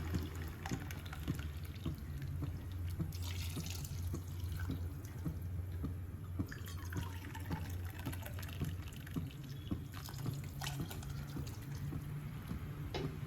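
Water streaming and trickling into a pressure cooker for mutton biryani with a steady liquid rush and scattered drips, close by, continuing throughout with no talking.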